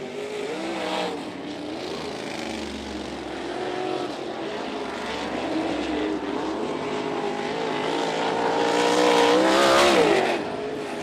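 USAC sprint cars running hot laps on the dirt track at Ocala Speedway, engines droning with wavering pitch as cars pass, building to a louder nearby surge before fading.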